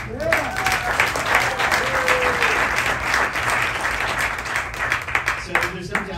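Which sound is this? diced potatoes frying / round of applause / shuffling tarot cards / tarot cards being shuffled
round of applause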